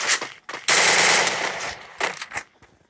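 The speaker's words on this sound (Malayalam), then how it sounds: "നമ്മൾ MP40 എടുത്ത് ഫയർ കാണിക്കുക." An MP40 submachine gun fires in a video game, first in a short burst and then in one long loud sustained rattle, followed by a few brief bursts and quieter clatter.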